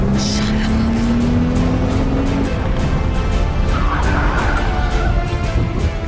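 A car driven hard at 50 mph during FBI driving training makes a loud, continuous engine and road roar, close inside the vehicle, as it brakes hard, with a whining tone early and noisy rumble throughout.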